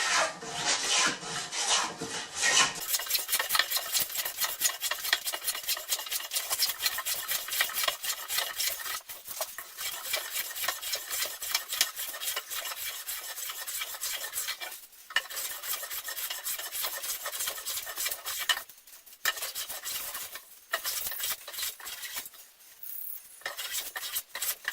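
No. 5 hand plane shaving a wooden board for a Roubo-style workbench, continuous rhythmic rasping strokes close up, repeated scraping passes with brief pauses between some strokes.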